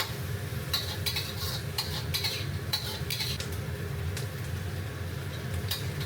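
Peppers and eggs stir-fried in a wok, with a continuous low sizzle under repeated metallic scrapes and clinks of a spatula against the pan, close up with no voices.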